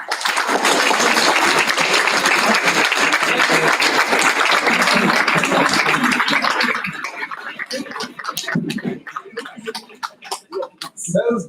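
Loud, sustained applause from a crowd at an institute's foundation day celebration honouring the head cook, a dense roar of clapping that breaks after several seconds into scattered individual claps before dying away.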